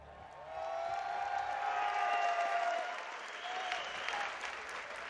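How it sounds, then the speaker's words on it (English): A large esports arena crowd at the Dota 2 MDL Disneyland Paris Major claps and cheers as Game 3 between Team Liquid and Vici Gaming begins, a sustained wash of applause that swells and then gradually eases off. "The crowd is hyped for our first Game 3 of the day"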